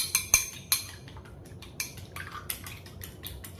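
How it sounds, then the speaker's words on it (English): An egg being beaten with a fork in a bowl, with a few sharp clinks of metal against the bowl at the start, then softer, quicker tapping and scraping. "beat it, the egg."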